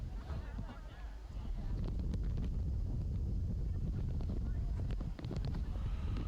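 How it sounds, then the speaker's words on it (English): Wind gusting across an outdoor girls' varsity soccer game, a steady low rumble of wind buffeting the microphone that swells and stays loud throughout, with faint field sounds underneath. "And the wind just gusting still out there."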